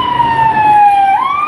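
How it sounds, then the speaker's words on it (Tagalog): An ambulance siren wailing loudly and close by, a sustained tone that glides slowly down and then rises again, with faint road noise underneath. "may ambulansya"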